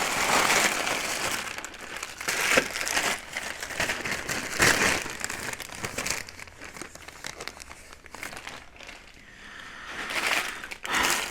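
Cardboard and plastic packaging from a Temu order crinkle and rustle up close as items are pulled out of a box, with scattered tearing sounds and no talking.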